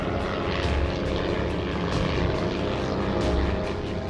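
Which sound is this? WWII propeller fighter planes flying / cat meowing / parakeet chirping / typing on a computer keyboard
WWII propeller fighter planes flying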